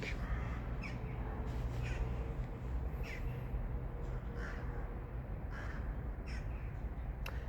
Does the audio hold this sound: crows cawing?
yes